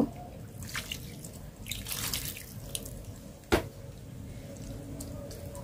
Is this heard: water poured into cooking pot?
yes